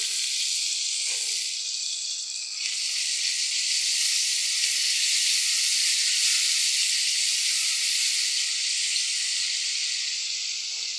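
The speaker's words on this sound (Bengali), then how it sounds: "আমি এখন রসুন বাটা দিয়ে দিতেছি 1 টেবিল চামচ" A tablespoon of garlic paste hits hot oil while Malabar spinach curry is being cooked. The hiss is loud, continuous and close, swelling slightly a couple of seconds in and holding steady with no talk.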